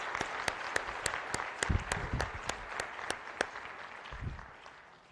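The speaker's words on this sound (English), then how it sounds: "Let's have a warm round of applause for all of our new citizens here today." A fairly faint round of applause from the audience at a naturalization ceremony for new citizens, with steady clapping from a modest crowd that fades out near the end.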